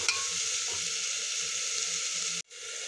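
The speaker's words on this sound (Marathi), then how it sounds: "हे चांगलं परतून घ्यायचं।" Khichdi mixture seasoned with salt sizzles as it is sautéed in a pan, a steady loud hiss with faint scraping underneath and a brief dropout near the end.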